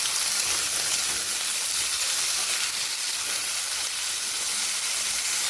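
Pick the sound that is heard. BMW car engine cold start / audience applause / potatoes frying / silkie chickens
potatoes frying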